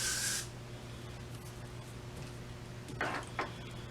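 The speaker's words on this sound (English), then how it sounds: "You want to give it a nice spray on top and a nice spray pointing up from underneath." An aerosol can of spray wax is aimed at hair during styling. One close, sharp hiss is followed a few seconds later by two shorter bursts over quiet room hum.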